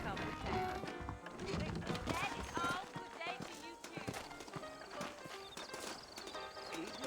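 Horse hooves clip-clop at a steady trotting pace in the video game Red Dead Redemption, with voices talking and music playing over them.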